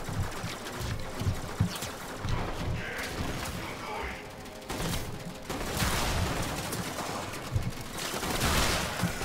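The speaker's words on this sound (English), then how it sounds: "magazine firing off. It's actually the secondary fire." The secondary-fire magazine turret in the Space Ninja video game lets off bursts of rapid, loud crackling shots in several clusters, with brief gaps between volleys and some talk mixed in.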